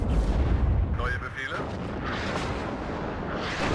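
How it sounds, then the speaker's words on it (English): Artillery fire in the WARNO real-time strategy game, dense rumbling booms and crackling blasts layered into continuous battlefield noise, loud and close, with voices talking underneath. "The artillery coming like through close to the screen there is really cool"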